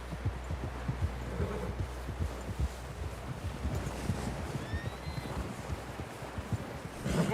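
Horse hooves clip-clopping in Red Dead Redemption 2, a brisk steady trot of close, regular hoofbeats over soft wind and rustling ambience.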